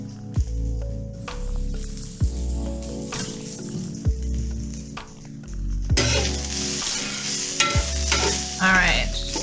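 Onions fry in a pan for a coconut vegetable korma. A steady sizzle runs under repeated spoon scrapes and taps, and the sizzle grows louder and brighter toward the end.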